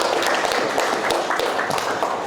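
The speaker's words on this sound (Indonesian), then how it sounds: "Oke, tepuk tangan dulu dong buat kita semua." Audience applause at an Indonesian career management presentation: a dense, steady wash of many hands clapping that holds at an even level for about two seconds, with no talking.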